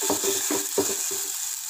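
Turmeric powder is sautéed in a pan while pepper rasam is cooked, a soft sizzle under about four short scraping stirs, close and fairly quiet, with no speech.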